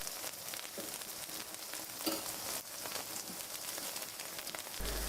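Ginger-garlic and cumin paste frying in a small amount of oil for a bottle gourd and prawn curry, giving a steady, faint crackling sizzle with soft spattering throughout and no voices.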